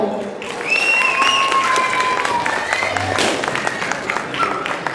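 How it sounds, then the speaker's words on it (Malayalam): An audience at a Syro-Malabar catechism anniversary event breaks into steady applause that lasts several seconds, with whistles and cheers over the clapping. "അവർക്ക് വേണ്ടി ഒന്ന് കൈയടിക്കാമോ?"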